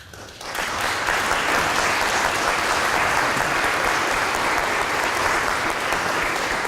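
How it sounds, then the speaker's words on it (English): An audience at a venture competition final breaks into sustained applause for mentors, a dense, even roar of clapping that swells in after a brief quiet start and holds steady throughout. "please stand up and receive our thanks and applause"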